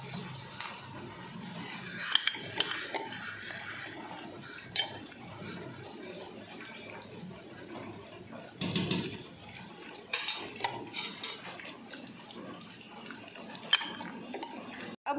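Chicken with egg white and flour is stirred in a bowl for restaurant-style chowmein marinade, producing soft, irregular wet squelches and sharp clinks of a utensil against the dish at close range.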